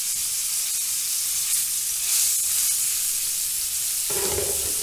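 Duck breast sears in its own rendered fat, a steady close hiss of sizzling that swells slightly midway, then a brief clatter of the pan near the end.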